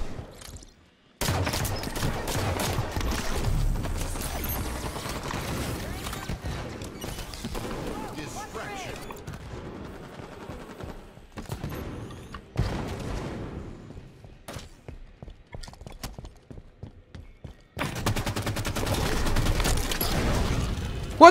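Rapid bursts of weapon fire in Halo 5: Guardians multiplayer, rattling in clustered volleys with gaps between, mixed with game effects.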